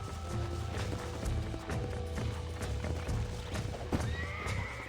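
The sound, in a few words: horse hooves and neighing in video game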